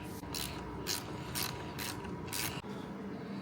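A ratchet wrench loosens a 14 mm bolt on a seat belt buckle of a 2023+ Nissan Z being fitted with an aftermarket seat, in five evenly spaced bursts of clicking ratchet strokes, close and alone.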